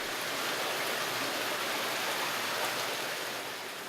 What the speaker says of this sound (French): À l'intérieur de ces conduits coulent parfois de véritables rivières.